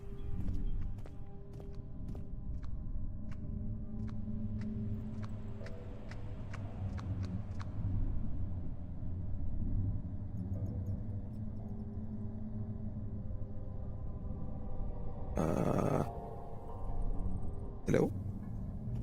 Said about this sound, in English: Anyone else hear those footsteps?